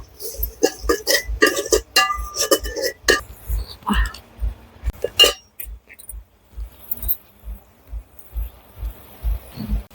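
A spoon stirs chili and turmeric powder into spices in a pan in a village Bengali kitchen, giving sharp metallic clinks and scrapes in bursts, then sparser taps over a low steady thumping, with a voice murmuring faintly.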